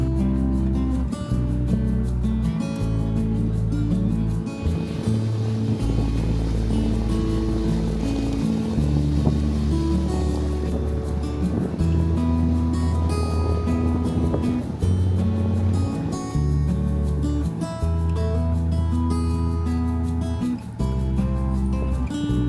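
A sailing boat motoring out of Salcombe on flat, windless water, its engine a steady low droning hum that stays loud and close throughout, with no talk.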